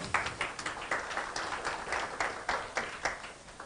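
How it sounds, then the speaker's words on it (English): Scattered clapping at the opening of a Swahili international tourism expo investment forum, a modest, uneven round of hand claps with distinct individual claps, moderately distant. "A bigger round of applause."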